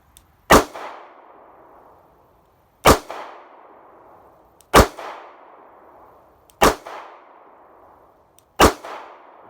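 Smith & Wesson 637 revolver fired double action at a shooting range: five loud, sharp cracks spaced about two seconds apart, each with a short ringing tail, and no talking.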